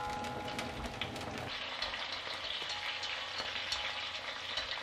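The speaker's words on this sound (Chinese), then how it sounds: "油微热的时候倒入洋葱芯、香菜根和葱段进去，咱们熬个葱油，用小火慢慢的炸出里面的香味" Onion cores, cilantro roots and scallion pieces frying slowly in plenty of oil over low heat, a steady dense crackling sizzle throughout with no voices.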